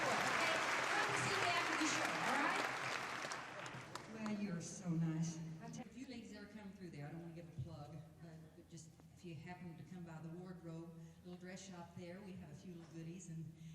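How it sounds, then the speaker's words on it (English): Audience applause fills the first few seconds, then a speaker talks over a quiet room as the clapping dies away. "let's give them a big round of applause"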